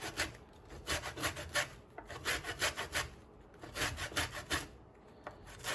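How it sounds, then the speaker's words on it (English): Oranges rubbed against a zester give a run of quick, dry scraping strokes in an uneven rhythm, close and fairly quiet, with short pauses between bursts. "Next step is to zest some oranges until we have 1 tablespoon of zest."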